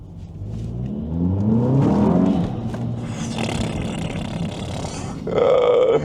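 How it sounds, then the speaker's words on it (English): Vehicles speed past on a road with rising, revving engine roars. The snarl swells and fades, then a second burst of engine noise follows close by. "Bro, why are they speeding like that?"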